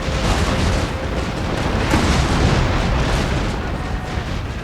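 Matchlock gunfire in a Total War Shogun 2 battle forms a loud, dense, continuous roar of overlapping shots and rumbling blasts with no pauses.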